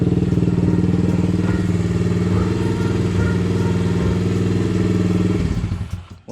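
A motorcycle engine, just back from a head gasket repair, idles with an even, rapid thrum close by, holding steady before fading out at the end.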